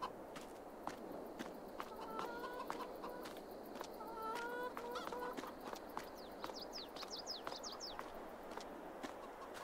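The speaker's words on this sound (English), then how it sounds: "Got our chickens." Farm chickens cluck in Farming Simulator 22, several birds giving faint, scattered clucks and calls over an outdoor ambience, with sharp footstep-like clicks repeating steadily throughout.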